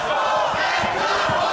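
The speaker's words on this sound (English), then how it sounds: "Very much a split crowd here." Wrestling crowd at Huxley's in Berlin cheering and chanting in a steady, dense roar that fills the whole moment, with a few louder surges of shouting rising out of it.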